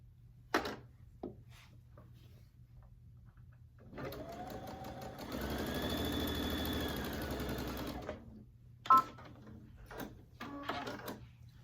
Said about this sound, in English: We're going to stitch from here across to here.